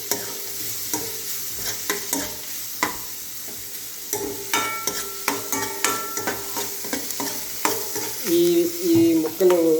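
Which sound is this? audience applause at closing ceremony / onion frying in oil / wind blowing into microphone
onion frying in oil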